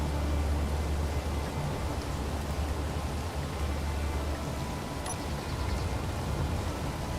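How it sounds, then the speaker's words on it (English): Steady, even rain in Space Engineers, a dense hiss with a low rumble underneath, continuous and unchanging throughout, with no talk. "It's also raining."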